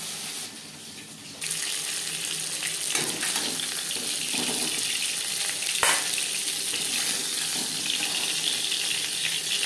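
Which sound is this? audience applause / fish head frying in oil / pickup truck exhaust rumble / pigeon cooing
fish head frying in oil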